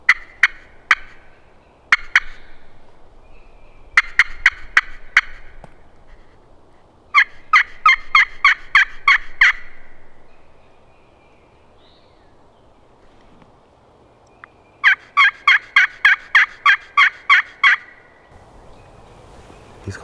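A wild turkey gobbles repeatedly on a Mississippi spring hunt, rapid rattling gobbles in several bursts, fairly loud and carrying, separated by quiet outdoor air with light wind.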